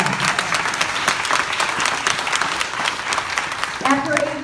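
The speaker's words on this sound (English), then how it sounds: "let's clap for that" A crowd at a political campaign event in Royal Oak, Michigan claps steadily, loud and close, the applause filling the room before a voice starts speaking near the end.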